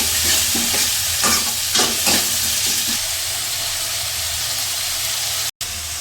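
A pan sizzling while paneer bhurji cooks, a steady loud frying hiss with a few rhythmic stirring scrapes early on and a brief cut near the end.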